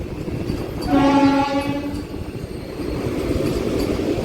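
A saffron Vande Bharat train passes nearby with a single short horn blast, followed by steady rumbling rail noise.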